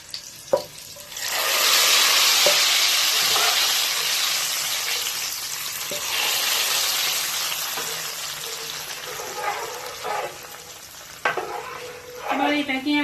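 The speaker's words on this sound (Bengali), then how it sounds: "তো এখন আমি এই ফোড়নটাকে এই ডালের ভিতর ঢেলে দিচ্ছি।" Hot ghee tempering poured into mutton haleem dal, a loud sudden sizzle that flares up and then settles into a steady hiss with a few clinks, no talking.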